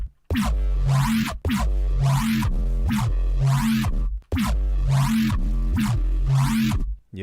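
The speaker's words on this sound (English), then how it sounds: "Next one that we've got is Laser Womp," Phase Plant synth preset called Laser Womp, a loud, dense, wobbling bass-heavy tone with sweeping laser-like high end, played in two long sustained phrases with a brief gap between them.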